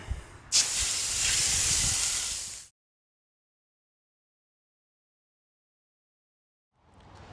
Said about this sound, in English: Okay, let's spray it off, see what we got.